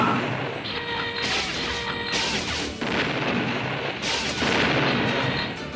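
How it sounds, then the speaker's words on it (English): Animated-series gunfire during target practice: loud, heavy bursts of rapid shots and crashing impacts come in several waves, with brief gaps between volleys. "That's what I call real shooting."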